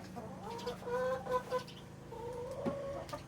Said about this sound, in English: over here there are a couple of hens on eggs